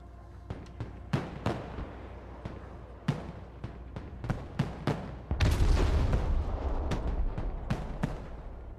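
Artillery strike from a fire mission in the video game Broken Arrow: a rapid series of sharp booming impacts, some near and loud, others farther off, followed by a sustained rumbling barrage of overlapping blasts.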